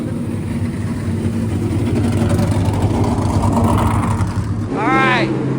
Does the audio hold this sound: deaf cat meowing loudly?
no